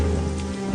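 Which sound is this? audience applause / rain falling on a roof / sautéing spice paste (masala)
rain falling on a roof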